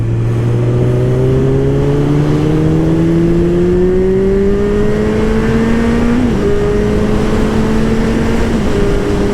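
A motorcycle engine drones steadily close by while riding, its pitch climbing gradually as it accelerates, then dipping briefly with a gear change.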